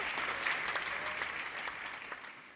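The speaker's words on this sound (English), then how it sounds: "Clap your hands for Jesus Christ." Church congregation clapping together during a healing service, a dense, steady round of applause that holds evenly and fades slightly toward the end.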